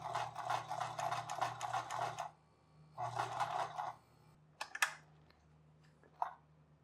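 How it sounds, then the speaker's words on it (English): A sewing machine runs stitches along a cap seam in two separate runs, each a quiet, fast rattle, followed by a few light clicks and handling knocks. "I'm going to run 2 stitches, one on each side of this seam, in order to hold the inside seam allowance in place"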